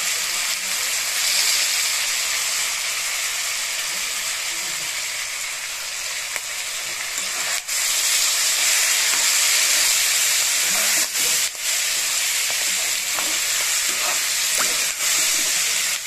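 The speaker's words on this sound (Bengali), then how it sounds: "পেঁয়াজ কলিগুলো দিয়ে ভালো করে নেড়ে চেড়ে ভাজতে হবে।" Onion stalks sizzle loudly in a pan with fried potatoes, a continuous close frying hiss broken by occasional scraping stirs.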